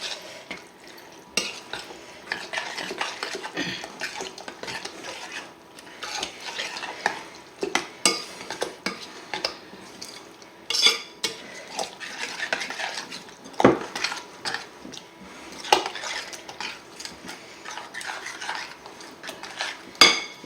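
Crème fraîche is stirred into a tuna and mushroom tart filling in a pan, with irregular scraping and clinking utensil strokes against the pan over a faint sizzle, close and intermittent, with no talking.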